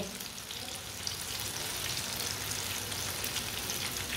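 Pakoras sizzling in hot oil, a steady, soft, even crackle and fizz that carries on throughout without any talking.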